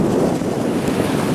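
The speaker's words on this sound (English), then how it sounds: "Can you hear the wind?" Wind at a beach beside a small pier, a steady blustery rush and microphone buffeting filling the whole moment, with no voices.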